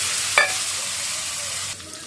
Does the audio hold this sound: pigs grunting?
no